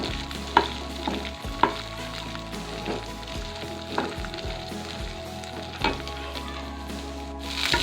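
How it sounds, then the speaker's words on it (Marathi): Dry maize kernels roasting in a pan over a low-medium gas flame while being stirred, a steady close scraping and rustling with a few sharper knocks against the pan, no voices. "हे सर्व दाणे चांगले भाजून घ्यावेत चांगले भाजून घेतले दाणे पहिले हलवत राहावं"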